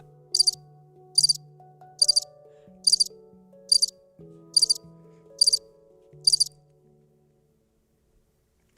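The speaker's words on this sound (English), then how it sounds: "I think I got a cricket sound." A cricket chirping in eight evenly spaced bursts of rapid high trills, crisp and close, over a soft low sustained tone, then falling quiet.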